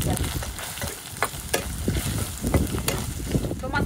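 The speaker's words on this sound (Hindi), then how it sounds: "मसाला हमारा बहुत ही अच्छे से तेल में पक चुका है" Spices frying in oil in a pan for a chaat and chole preparation with turmeric, garam masala and Kashmiri red chilli, giving a steady close sizzle broken by repeated stirring scrapes and small bursts.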